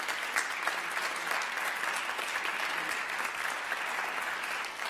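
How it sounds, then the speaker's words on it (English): Theatre festival opening ceremony audience giving a big round of applause, dense continuous clapping from a crowd held at an even level throughout, with no talking over it. "let's give him a big round of applause"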